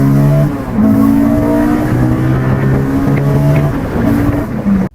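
A Honda S2000's F20C engine revs hard, its tone stepping up through repeated rising pulls into VTEC, loud and close before cutting off abruptly.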